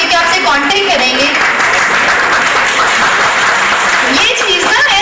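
A prize show audience applauds loudly and continuously, a dense wash of clapping with music and a voice faintly mixed underneath.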